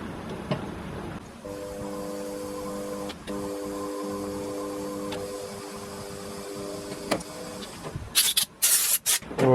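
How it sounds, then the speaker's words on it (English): A thread being tapped into a machined steel part for a homemade tool and cutter grinder, heard as a steady mechanical whir with a constant hum, followed near the end by a burst of sharp scraping and clattering. "So tap a thread in there and we'll just about be done then."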